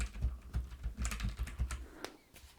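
Keys clatter on a computer keyboard while a query is filled in in Microsoft Access, a steady run of close, quick clicks with no talking over them.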